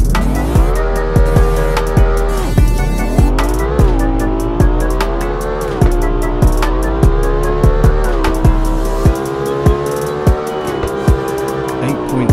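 A carbon-fiber car in the Roblox game Car Dealership Tycoon revs loudly, its engine tone climbing and dropping through repeated gear shifts as it accelerates, with brief tire squeals.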